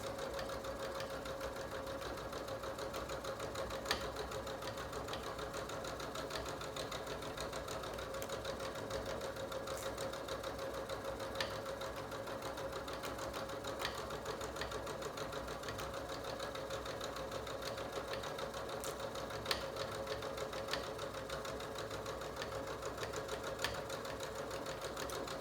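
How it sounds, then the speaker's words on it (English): Sewing machine running steadily, stitching the leg seams of pajama pants at a 5/8 seam allowance, a continuous close mechanical whir with a faint rhythmic tick for the whole 25 seconds. "I'm following that 5/8 seam allowance the entire time as I'm sewing"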